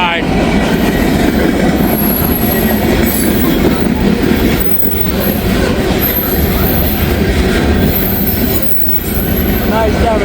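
A long mixed manifest freight train rolls past steadily and loudly in Wyoming, with wheel squeal and a rumbling, clattering run of cars throughout.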